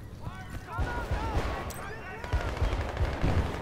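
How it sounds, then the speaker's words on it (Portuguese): Suppressive automatic gunfire in the video game Battlefield Bad Company 2, with rapid bursts of shots crackling through a busy battle mix while people talk over it. "Vai lá, vou dar fogo de supressão."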